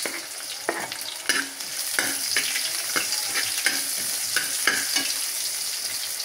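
Garlic and onion sauté in a pan with a bright, steady sizzle, broken by repeated scraping taps of a spatula stirring them, close and fairly quiet.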